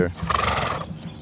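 A horse neighs once, a brief loud whinny close by, while a person is talking over it.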